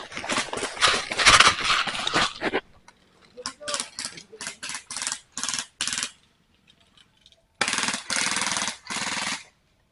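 D'COBRA M416 HPA airsoft gun firing BBs during a game in a sengon forest: a sustained loud burst, then a string of short sharp shot bursts, and a final long rapid volley, all close.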